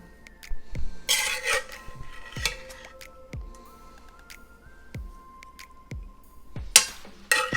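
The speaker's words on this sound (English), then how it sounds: "Just scoop that onto a plate." Sautéed gnocchi scooped from a pan onto a plate, with scattered soft clinks of utensil against cookware and plate, quiet scraping, and a few sharp taps spread through an otherwise quiet kitchen.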